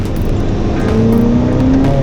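Ferrari engine on an Italian road trip, revving as the driver works the gearshift; a loud, close, continuous engine roar with pitch rising through a rev before a shift, no talking.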